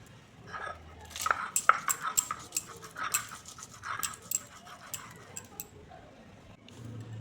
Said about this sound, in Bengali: এখন রসুনগুলো বেটে নেব।